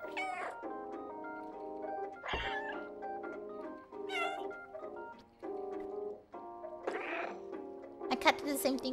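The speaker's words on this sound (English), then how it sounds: "that wasn't me, it was my cat." Cat meows and mewing calls sound repeatedly over about nine seconds, fairly close and tonal, rising and falling in pitch, with what may be voice or game sounds mixed in.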